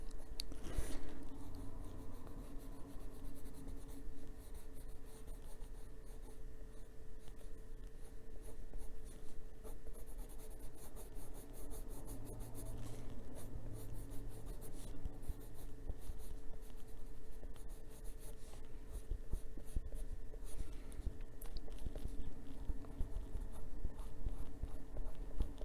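A white coloring pencil scratching steadily across paper while blending colors on a pop manga mermaid page, a close, continuous dry rasp of short strokes with no talking.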